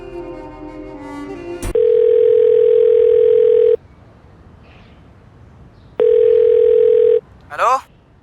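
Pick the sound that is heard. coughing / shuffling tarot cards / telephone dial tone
telephone dial tone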